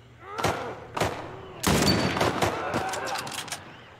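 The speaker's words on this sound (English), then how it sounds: "I shot way too early." Gunfire in The Last of Us Remake: several sharp, loud shots crack in quick succession, the last ones merging into a dense burst with echoing tails.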